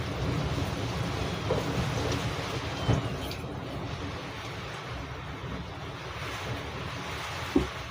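Tropical storm wind outside rushes in a constant broadband roar with a rain-like hiss, steady throughout, with a few soft thumps and one sharper knock near the end; no one speaks.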